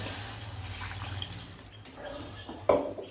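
Water pours steadily into a cooking pot for okra soup with a low hum underneath, ending in a brief louder splash near the end.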